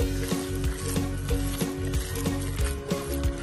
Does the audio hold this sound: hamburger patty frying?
yes